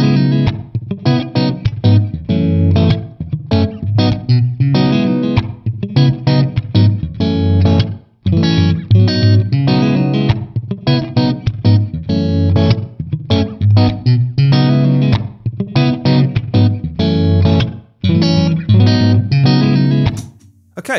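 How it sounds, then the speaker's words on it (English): An electric guitar runs through a TONEX with reverb set to act like a slapback echo. It plays a loud, distorted, rhythmic riff of choppy strummed chords with short pauses, alone and without talk. "dialing in reverb to almost get a pseudo slapback echo type of sound"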